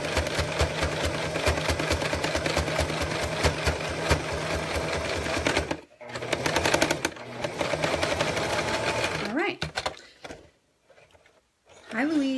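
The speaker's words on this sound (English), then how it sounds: "we've top stitched right around that zipper." A sewing machine top stitches around a zipper with a steady, close mechanical hum, pausing once briefly and then stopping, after which a voice speaks over quiet gaps.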